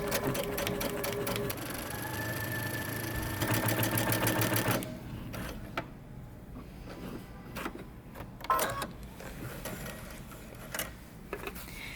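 A sewing machine runs basting stitches on a jumpsuit sleeve with a close, rapid mechanical whir for about five seconds. Then it stops, leaving quiet handling clicks and rustles.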